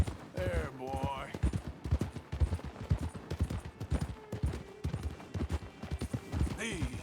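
Rhythmic clip-clop of a horse's hooves in Red Dead Redemption 2, steady and fairly close, mixed with someone talking over it and faint game ambience.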